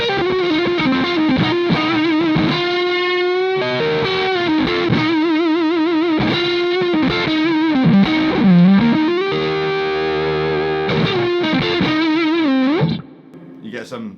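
Electric guitar played through a fuzz pedal on the neck pickup gives thick, heavily distorted sustained notes and bends, loud and continuous, then cuts off abruptly near the end.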